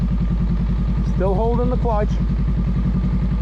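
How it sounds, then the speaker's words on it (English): Motorcycle engine idling in a steady, close, pulsing rhythm as the rider slowly eases out the clutch, with someone talking over it. "Ease out on the clutch, and the bike starts to move."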